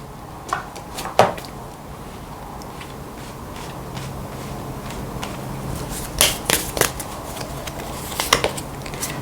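Tarot cards being shuffled and drawn at a reading, soft papery riffles and slaps in scattered bursts with quieter handling between them and no talk.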